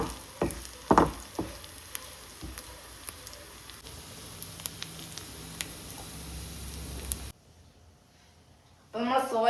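Soyabean stir-frying in a pan gives a low continuous sizzle, with a few louder stirring knocks early on. It drops to near silence near the end, then a voice starts speaking.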